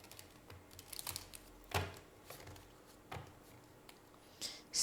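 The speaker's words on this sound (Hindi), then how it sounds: "कार्ड्स को शफल कर लेते हैं वन लास्ट टाइम" Tarot cards being shuffled, a few soft riffling and slapping bursts at close range with quiet pauses between them and no talking.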